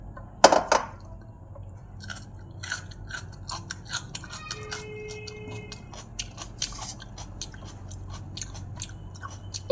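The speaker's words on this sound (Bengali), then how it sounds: "চলো এরপর খাবো পেঁয়াজ পোড়া।" Close, dry chewing of a fire-roasted onion, with a sharp bite near the start followed by scattered soft crunches and mouth clicks over a quiet background, no talking.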